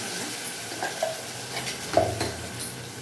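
Onion and tomato sizzle in a hot pan for sambar, with a steady fry hiss and a few soft stirring scrapes and utensil clinks, close up and alone.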